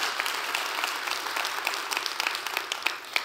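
A church congregation claps together in a steady, dense burst of applause, close and lively, with no speech over it.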